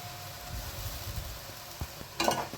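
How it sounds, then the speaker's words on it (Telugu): Ginger garlic paste fries in a pan with a soft, continuous sizzle. A few light scrapes and taps of a utensil come through, and a louder clatter of stirring arrives near the end. "పేస్ట్ స్మెల్ అంతా పోయేంత వరకు మంచిగా ఫ్రై చేసుకోవాలి"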